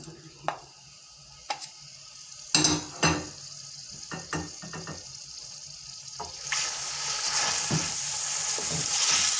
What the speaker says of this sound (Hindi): ऑयल गर्म होता है तो फिर साथ ही हम इसमें प्याज शामिल कर देंगे।